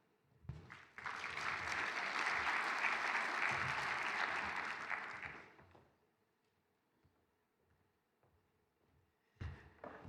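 Audience applause fills a lecture hall before a pediatric subspecialty plenary talk at an education event, a dense sustained clapping of about five seconds that fades out into near silence, with a brief burst of noise at the end.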